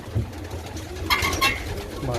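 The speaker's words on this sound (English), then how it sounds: "Let me just close this so I can let the birds fly out." Pigeons leaving a crowded loft, with a few coos and wing flutters over steady low hum and outdoor noise; the activity is busy but fairly faint, and a brief burst of bright flapping sounds rises partway through.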